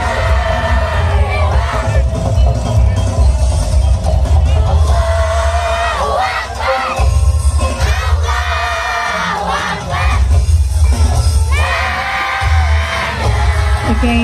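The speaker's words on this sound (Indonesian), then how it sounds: "ini suara takbirnya masih lantang ya" A crowd chants takbir at an Eid al-Adha carnival in Krapyak Wetan, with voices rising and falling in loud, continuous waves, backed by dense ambient noise and occasional bangs from a nearby procession.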